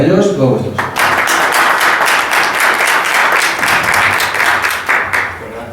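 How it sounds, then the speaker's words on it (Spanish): An audience at a live podcasting event breaks into dense applause lasting several seconds, loud and sustained, with a brief voice at the very start before the clapping swells and then tapers off. "Un aplauso para ellos, todos vuestros."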